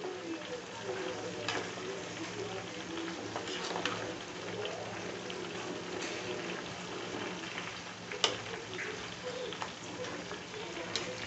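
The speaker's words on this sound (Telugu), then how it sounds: "ఇవన్నీ బాగా ఆయిల్లో వేగిపోవాలా, వాటి రసం అంతా ఆయిల్కి పట్టిపోతుంది" Herbs frying in oil on a low flame for homemade hair oil, giving a soft, steady sizzle and bubbling with occasional small pops, fairly quiet and continuous.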